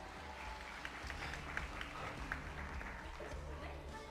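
A church congregation claps together in praise, a soft, fairly distant patter of many hands sustained for a few seconds, with murmuring voices mixed in.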